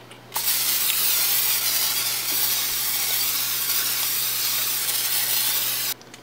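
A steady, loud hiss of aerosol cooking spray sprayed onto a cooktop runs for about five and a half seconds, starting and stopping abruptly.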